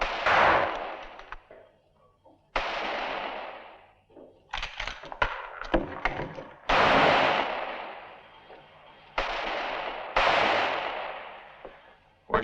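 Gunfire in a Western shootout: several loud, sharp reports come in irregular bursts, each one cracking out and trailing off in a long echoing decay, with brief quieter gaps between them.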